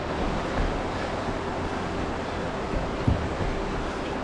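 A creek in the Grand Canyon flows steadily under a bridge, a broad continuous rush of water mixed with wind buffeting the microphone, with one brief knock partway through.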